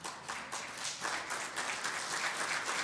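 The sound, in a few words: congregation applauding in church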